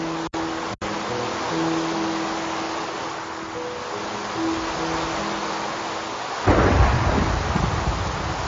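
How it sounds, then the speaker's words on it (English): Thunder from a lightning strike in the Minecraft video game rolls up from a steady rain-like hiss and breaks into a loud rumbling crack near the end. "I think lightning just hit."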